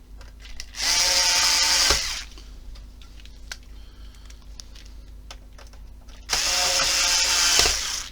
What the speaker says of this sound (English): just when you're putting your screws in